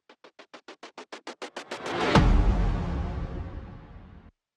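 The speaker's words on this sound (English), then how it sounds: "I created this little reverse perk swell thing and then used a little cinematic like whoosh into a hit" Reverse percussion swell built from a rapid run of short hits that accelerate and grow louder, rushing into a cinematic whoosh and a heavy booming hit that rings out and fades, all alone with no talk.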